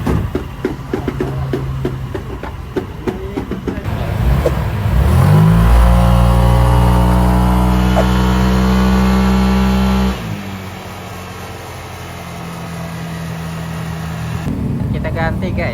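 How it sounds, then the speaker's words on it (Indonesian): A Honda Vario scooter engine revs up loudly while riding and holds a steady high drone for several seconds, then drops back to a lower hum, with voices talking over it at times. "kita lagi jalan-jalan nih guys buat ngetes motornya"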